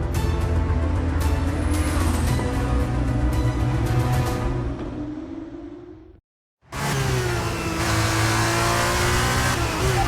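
An F1 race car on brand new tyres accelerates hard out of the pits in a racing video game, its engine revving up through rising pitch, then cutting briefly before roaring back loud and close, with no talk.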